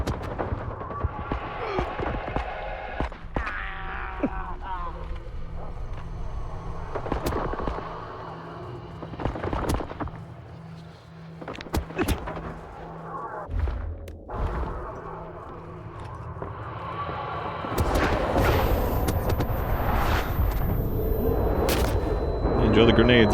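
Grenade blasts and gunfire in the shooter game S.T.A.L.K.E.R. 2: Heart of Chornobyl, with sharp booming bursts scattered through a dense, continuous mix of combat noise and rumble.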